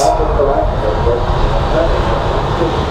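An airplane passes at Raleigh Durham International Airport, its loud, steady engine roar filling the whole stretch without letting up.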